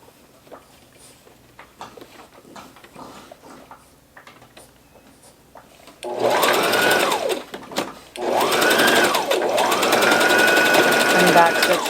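A sewing machine stitches a reusable fabric face mask with a filter pocket, starting loud and close after a few seconds of quiet handling clicks, running in two long bursts separated by a brief pause.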